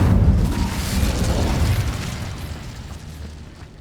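Incendio fire spell cast in Hogwarts Legacy, a loud whooshing burst of flame that erupts at once and then rumbles and fades over several seconds, with no voices.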